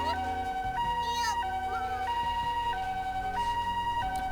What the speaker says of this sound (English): I hear a loud siren going wee-oo, wee-oo as an ambulance approaches